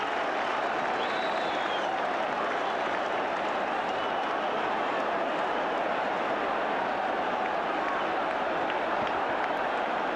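A packed football ground crowd roars and applauds after a headed goal, a dense, steady wall of cheering that holds at full strength without a break.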